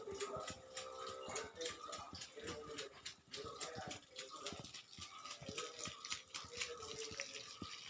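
Running water from a hose pipe splashes steadily and softly onto plants at a distance, with faint voices speaking now and then over it.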